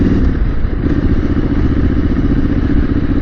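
A CCM motorcycle engine rumbles steadily and loudly at close range with a constant throbbing drone and no voices.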